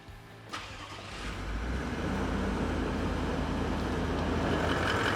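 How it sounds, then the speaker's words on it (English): A Toyota Landcruiser 200 Series starting in a workshop: a sharp crank and catch near the start, then the engine settles into a steady, moderately loud idle. "we'll just start the vehicle"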